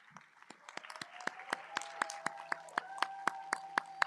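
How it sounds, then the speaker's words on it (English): Graduation ceremony audience clapping at a university commencement, a thin, rhythmic series of distinct claps from a few people, fairly distant and faint over a steady sustained tone. "Please rise and applaud them for their success."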